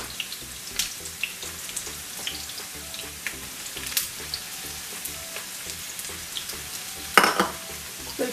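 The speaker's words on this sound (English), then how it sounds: "we'll fry this onion until they get golden brown" Chopped onions fry in oil for a Bombay-style masoor pulao, giving a soft, continuous sizzle with light stirring taps and a brief louder clatter near the end.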